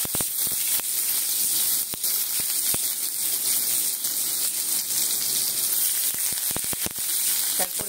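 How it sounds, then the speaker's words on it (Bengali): Garlic sizzling in hot oil in a pan, a steady bright crackling hiss with sporadic sharper pops, close and continuous throughout. "তেলটা তো আছেই, তেলের মধ্যে প্রথমে দেব রসুন"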